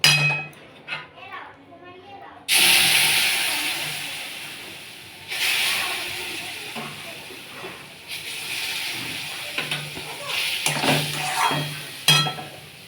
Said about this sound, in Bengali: এবার আমি এতে দুধ দিয়ে দেবো।